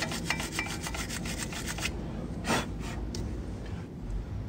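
Dust from worn brake pads is scrubbed off a BMW 1 Series brake caliper, a close series of quick rhythmic rasping rubs followed by a few slower strokes.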